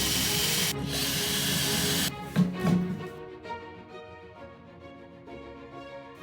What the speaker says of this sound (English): I'm using the smallest drill bit that I've got.